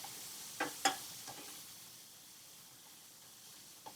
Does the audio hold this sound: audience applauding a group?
no